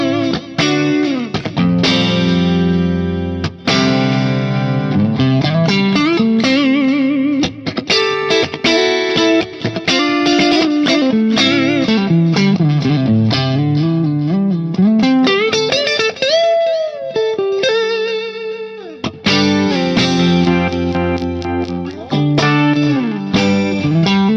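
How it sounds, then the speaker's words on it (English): Clean electric guitar through a compressor, with TC Electronic G-Force chorus and echo in the effects loop, plays a continuous melodic phrase of sustained, shimmering notes and chords, loud and close with no talk. "you'll also hear a TC Electronics G-Force chorus and echo in the loop"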